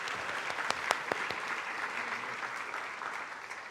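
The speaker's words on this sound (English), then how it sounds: "Can we get another round of applause for that incredible facilitation?" Audience applause at a panel event on school integration, a broad wash of clapping from a sizable crowd with a few sharper claps standing out early, fading gently toward the end.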